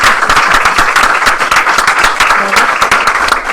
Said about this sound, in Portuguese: quero salva de palmas aqui para a nossa querida amiga